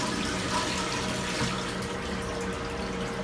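Water rushes steadily through a fish tank cleaning setup as it is flushed, a continuous close hiss and gurgle like a running tap that holds even for the whole stretch, with no talking.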